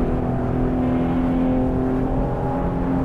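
Maserati Levante engine accelerating to overtake off-road, a loud, close, continuous low growl with a steady droning hum holding strong throughout, no voices.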